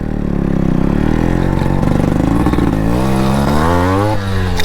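Yamaha RX two-stroke motorcycle engine running steadily and loud at close range, its pitch wavering and climbing in short revs, with no talking.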